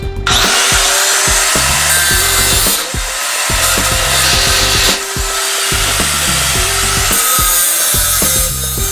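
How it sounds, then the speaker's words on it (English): Leftover nails are cut off used horseshoes with a power tool, a loud, continuous grinding whine broken by short pauses and bursts as each piece is cut. "little nails on them still, so I'm going to cut those off."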